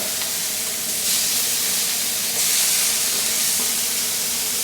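Burgers sizzle in a hot pan while being flipped, a steady loud hiss with slight swells as the patties turn over, no talk over it.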